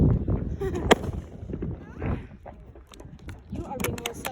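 Fireworks go off outdoors in sharp, scattered pops and bangs, some near and loud, others fainter, with crackling bursts between, while people talk and react over them.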